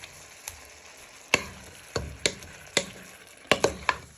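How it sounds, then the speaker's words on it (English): Red peppers stirred in a frying pan for a chicken and red pepper stew give a series of sharp utensil scrapes and knocks against the pan, about eight irregular hits over a faint background sizzle, with no talking. "So you're just giving them a good stir in."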